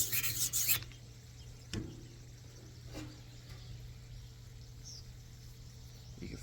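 A rolling knife sharpener on its finer side is drawn back and forth over a blade, making soft rasping rubs close by, with a brief louder scrape at the start and quiet strokes afterward.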